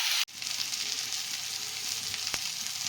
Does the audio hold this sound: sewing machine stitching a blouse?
no